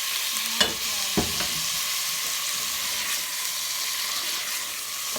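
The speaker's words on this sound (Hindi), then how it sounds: "जैसे ये ब्राउन हो गई प्याज हल्की सी, तो मैं इसमें डाल दूँगी चिकन" Chicken goes into lightly browned onions in a pan and is stirred. A steady loud sizzle of frying runs throughout, with a couple of sharp scraping stirs near the start and no talking.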